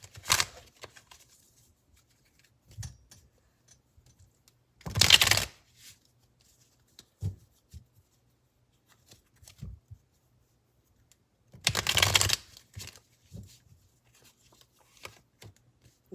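Tarot cards are shuffled in a few short, crisp riffling bursts separated by quiet gaps and faint soft handling sounds, close and clear.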